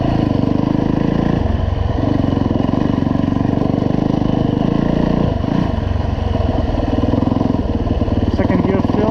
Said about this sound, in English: This bike will lug, so second gear is not a problem.